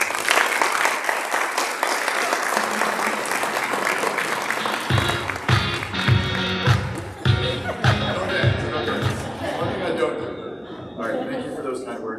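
An audience at an awards ceremony applauds a guest speaker, a dense, sustained wash of clapping that stays loud throughout, with a few louder claps standing out near the end.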